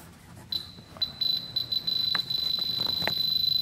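A handheld diamond tester touched to metal gives high-pitched electronic beeps: a few short chirps, then a longer, nearly continuous beep, with faint handling noise underneath.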